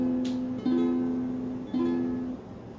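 Ukulele chord strummed and left to ring, a single clear tone that sustains and slowly fades with a slight pitch bend partway, played close and alone.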